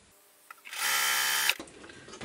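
A sewing machine stitches a quilt patch in one steady run of under a second, with a soft start and a quick stop, close and moderately loud, then quiet handling noise afterward.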